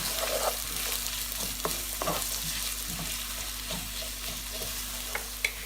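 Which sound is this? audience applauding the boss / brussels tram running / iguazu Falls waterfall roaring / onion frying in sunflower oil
onion frying in sunflower oil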